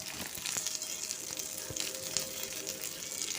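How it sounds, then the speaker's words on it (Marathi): Green chillies roast in oil on a tawa, giving a soft, steady sizzle with scattered light pops and crackles, fairly quiet and close. "तव्यात मिरच्या घातलेलं आहे तेल घालून घेतलेलं आहे आता त्याला तांबूस जरा भाजून घ्यायचं"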